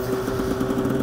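A KTM 300 EXC motorcycle engine runs with a steady, buzzy mid-pitched drone, close and continuous, with no clear rise in pitch across the short moment.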